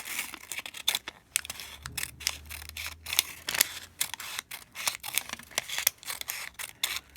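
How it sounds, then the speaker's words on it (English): Scissors snip around a circle in a paper cupcake liner, a quick irregular run of close, crisp cutting clicks and papery rustles with no talk. "Cut out our circle."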